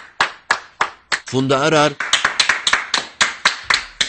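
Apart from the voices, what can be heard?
people applauding health workers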